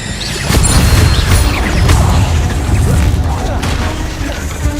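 Incendio fire spell cast in Hogwarts Legacy erupts as a loud, rumbling burst with a heavy low whoosh and crackling debris that sustains for several seconds before easing slightly.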